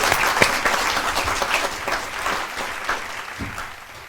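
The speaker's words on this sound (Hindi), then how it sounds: "आइए सतीश चंद्र सरल जी, जोरदार तालियों से अभिनंदन करते हैं।" An audience at a Hindi poetry gathering applauds to welcome poet Satish Chandra Saral, a full, continuous round of clapping that stays fairly loud throughout and fades slightly at the end.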